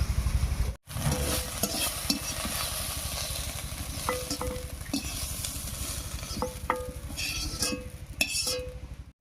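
Soybean chunks fry and sizzle steadily in a pan while a spoon stirs and clinks against the metal, with occasional scraping as they are lifted out, all close and continuous with no talking.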